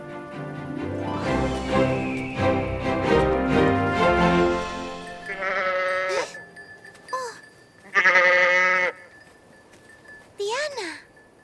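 Cartoon goats and sheep bleat in short wavering calls, several in turn after a stretch of spoken dialogue and music, each bleat loud and close.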